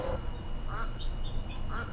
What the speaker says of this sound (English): There's ducks rolling up on us.